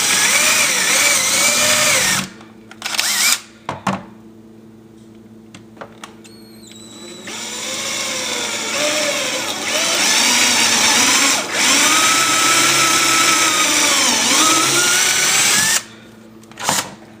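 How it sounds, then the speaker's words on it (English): A power drill whines loudly in long bursts, pitch shifting as it bites through the plastic of a 2006-09 Honda Civic sun visor, with short pauses and brief restarts between runs. "You want to drill through the plastic."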